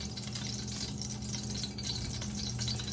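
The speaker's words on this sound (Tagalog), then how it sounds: "Nag-ingay ang aking mantika." Pork fat oil sizzles and crackles in a frying pan, a steady hissing fry with soft bubbling throughout, close and alone.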